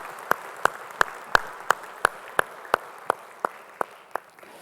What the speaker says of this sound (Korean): 우리 찬양할 주님께 영광의 박수 올리겠습니다.